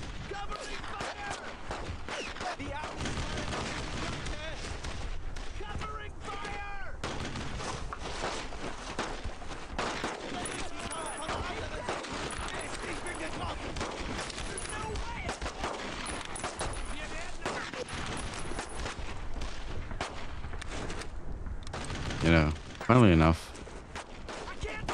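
Near-continuous gunfire and battle noise in the WWII shooter Brothers in Arms: Road to Hill 30, with repeated shots under ongoing talk and a couple of louder bursts near the end.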